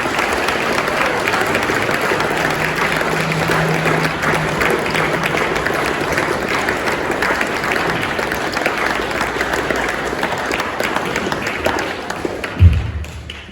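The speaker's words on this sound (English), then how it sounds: "A round of applause at this point." A church congregation applauds during a West Church worship service welcoming new elders, a loud, continuous roar of many clapping hands lasting over ten seconds, ending with a low thump.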